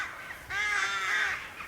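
A single harsh, raspy caw from a rook or blackbird, fairly close and clear, drawn out for about a second against a quiet Peak District moorland background.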